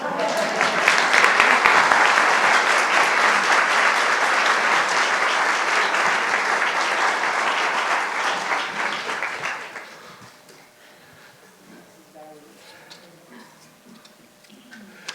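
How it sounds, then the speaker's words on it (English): A crowd at a celebration of life claps warmly and steadily for about nine seconds, then the applause fades out, leaving quiet room sound with faint voices talking. "I think we should clap for that effort."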